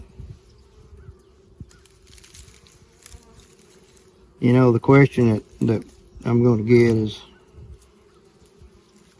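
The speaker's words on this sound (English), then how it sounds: "This box has a large colony of bees in it." A large colony of honey bees hums in a winter hive box, a low steady buzz that runs throughout, with someone talking briefly over it partway through.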